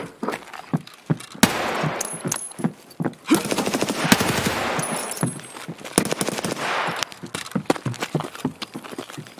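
Gunfire in Escape from Tarkov, a run of sharp shots in bursts, some rapid and some spaced, loud and close with echoing tails, alone without talk.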